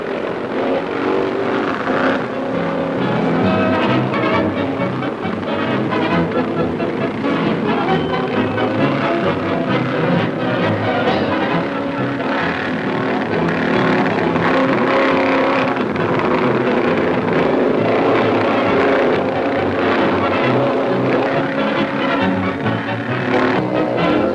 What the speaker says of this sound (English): The first international moto-cross race to be held in Britain gets off to a flying, if rather dusty, start at Brands Hatch Stadium in Kent.